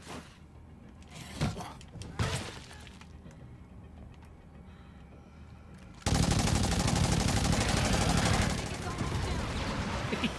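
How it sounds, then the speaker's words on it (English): In the video game State of Decay 2, a few scattered shots and crashes come first, then a Masterwork Assault Rifle opens up in a loud, sustained automatic burst that tapers near the end. "let's see how fast we can take this plague heart down with the Masterwork Assault Rifle"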